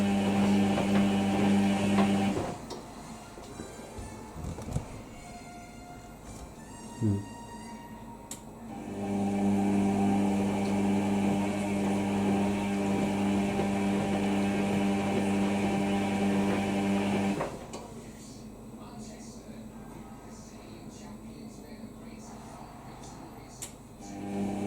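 Indesit WIDL102 washer dryer tumbling its drum faster on a white cotton 90ºC cycle: a steady motor whir and hum that drops out midway with a few soft knocks, resumes, then cuts off again.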